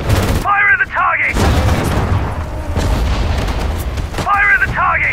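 Continuous rumbling gunfire and heavy booming artillery from a Sudden Strike 4 battle at the Mareth Line in 1943 during a British campaign. The dense, loud barrage runs throughout, with brief spoken unit replies at the start and end.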